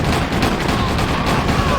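Artillery and V2 rockets fire in the Red Alert strategy game, played in OpenRA, producing a dense, continuous barrage of booming shots and blasts that stays loud and rough throughout.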